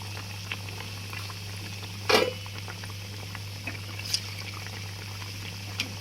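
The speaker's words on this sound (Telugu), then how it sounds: "సో చూడండి ఇది ఎలా వేగుతుందో" Chandrakanthulu sweets fry in oil with a faint, steady bubbling, a brief burst of crackle near the middle and a few small pops, with a low hum underneath.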